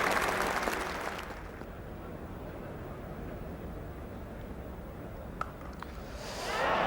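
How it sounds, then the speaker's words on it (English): A cricket crowd applauding a catch, broad sustained clapping from a large stadium audience that swells at the start, settles into a steady wash and rises again at the end. "Well, the crowd immediately clapped"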